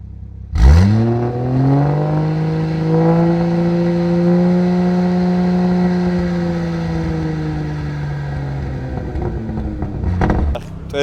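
A Toyota Supra with a loud modified exhaust is started and held at a steady high idle, a booming, droning engine note that stays constant for several seconds before dropping off, close and very loud.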